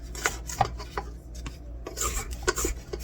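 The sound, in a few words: scraping with a handheld kitchen scraper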